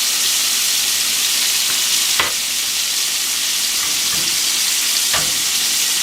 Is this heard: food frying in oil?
yes